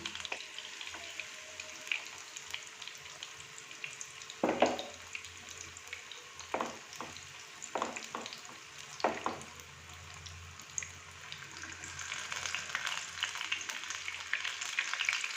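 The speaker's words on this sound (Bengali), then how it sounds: "এই দেখুন কি সুন্দর ভাজা হচ্ছে" Battered spinach leaves deep fry in hot oil, a steady soft sizzle with occasional louder bubbling bursts and stirring clatters, heard up close with no talk.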